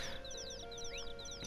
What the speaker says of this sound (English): Here we found some chicks.